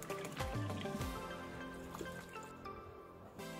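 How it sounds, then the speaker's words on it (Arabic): Lukewarm water pours from a cup into keto bread dough mix, a close, steady liquid trickle with drips and gurgling fill sounds over a few seconds, no talking. "واحد كوب ماء فاتر"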